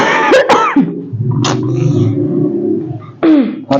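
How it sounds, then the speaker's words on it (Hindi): Someone coughs loudly and close, a few harsh bursts followed by throat clearing, with a short pause and another cough near the end. "बहुत खांसी आ रही है।"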